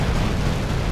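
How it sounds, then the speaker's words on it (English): Continuous explosions in Grand Theft Auto: San Andreas, a loud dense roar of blasts blending into one rumbling wall of noise with no pauses. "Just infinite explosions."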